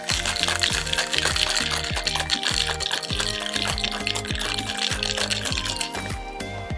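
A hurricane champagne tea drink is shaken in a cocktail shaker, a fast steady rhythm of ice rattling and sloshing, loud and close, with no talk.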